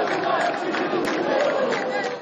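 Santos football supporters at a stadium match against Atlético Goianiense roar in a dense, sustained crowd noise, a continuous wash of shouting and voices filling the whole moment with no single caller standing out.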